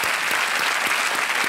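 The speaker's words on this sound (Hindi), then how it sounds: "तालियों के साथ इनका स्वागत।" A studio audience on a Hindi TV quiz show claps to welcome a guest, with many hands in a dense, continuous burst that stays at a steady, full level and has no talking over it.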